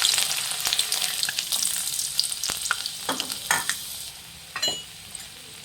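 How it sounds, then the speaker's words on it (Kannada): Garlic fries in hot oil for restaurant-style Chicken 65, giving a close crackling sizzle broken by irregular scraping strokes of a spoon stirring the pan. "ಫ್ರೆಂಡ್ಸ್ ಒಂದು ಸ್ವಲ್ಪ ಬೆಳ್ಳುಳ್ಳಿ ಫ್ರೈ ಆಗಲಿ, ಸಾಕು."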